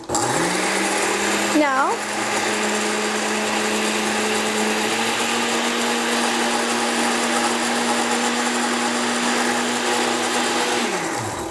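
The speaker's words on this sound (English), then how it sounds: "So plug your ears because I'm about to blend away." A blender purees chilaquiles ingredients, among them onion, garlic and green chili, with a loud steady high-pitched whir that runs for about ten seconds and then winds down. A voice briefly speaks at the start.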